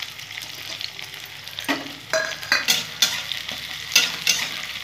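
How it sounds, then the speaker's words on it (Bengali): Onions sizzle in hot oil in a pan while being stirred, a steady crackling hiss with sharper scraping bursts from the spatula, close and alone without talk. "লাল লাল করে একটু ভেজে নেব।"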